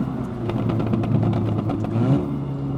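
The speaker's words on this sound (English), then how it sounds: "behind the car to capture the exhaust sound" A 400 BHP Audi S3 drives on back roads, its exhaust droning loud and close from behind the car, with a steady engine note rising and falling and a quick run of pulsing crackles.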